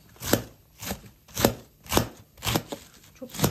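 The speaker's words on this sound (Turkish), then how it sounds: "Doğra diyorsan doğrayayım." A knife chops food on a board in a home kitchen, seven steady, evenly spaced thuds close by, with no talk over them.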